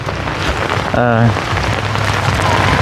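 Heavy rain pours steadily on a surface around a rural Thai home during a downpour, a constant dense hiss throughout, with a brief voice and a short tonal sound rising over it near the middle.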